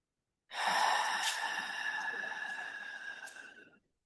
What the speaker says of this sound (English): go ahead and empty your breath fully all the way out